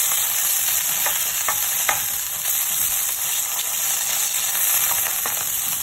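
Sausages frying gently over low heat in an Aldi non-stick pan with a little oil, a constant even sizzle and crackle up close, with a few faint clicks.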